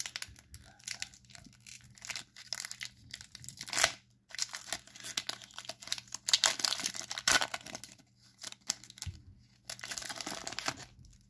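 Foil trading card pack wrapper torn open and crinkled by hand, close and fairly quiet, with bursts of tearing and crinkling separated by brief pauses.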